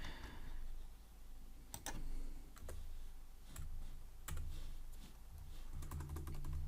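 Keys click on a computer keyboard while code is typed, sparse irregular taps heard close over a steady low room hiss.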